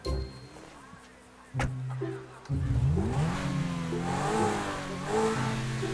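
A Lamborghini Aventador SVJ 63 engine in GTA V revs up in bursts, with rising and falling pitch sweeps over a loud, sustained engine drone.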